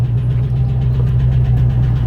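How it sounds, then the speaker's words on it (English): A 1994 Range Rover engine idles close by with a blowing exhaust, giving a loud, steady low rumble with a continuous pulsing throb throughout. "So I can hear the exhaust blowing down here."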